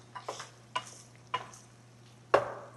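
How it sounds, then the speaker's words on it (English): Italian sausage fries in a pan over medium-low heat while a utensil scrapes and stirs it in four or five sharp, close strokes over a faint sizzle. "So just stir it enough so it doesn't burn on the bottom"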